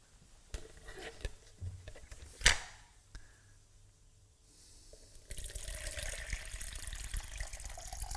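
A kitchen tap turned on to fill a container with water for brown bread dough: quiet handling clicks and knocks, a sharp clink, then a steady hiss of running water rising in the last few seconds.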